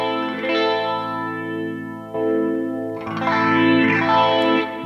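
Sustained electric guitar chords through a tube compressor effect on an HX Stomp ring out, compressed and thick with a slightly chorused, effected sheen, with fresh strums layered over the lingering notes.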